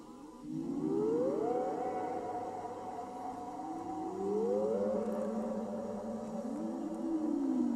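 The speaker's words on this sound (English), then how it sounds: "sound effects for the dissemination machine, cuts out just as the scientist turns off the equipment." Wobbling electronic tones glide upward in repeated waves over a steady droning hum, like a whirring sci-fi machine, loud and continuous; Tristram Cary's sound effects for the dissemination machine in Doctor Who's The Daleks' Master Plan.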